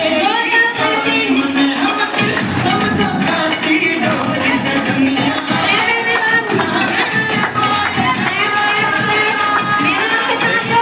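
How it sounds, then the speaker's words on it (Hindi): Crowd at a school Independence Day celebration, with dense cheering, shouting children and scattered clapping mixed with music-like tones, loud and continuous throughout. "जोरदार ताली।"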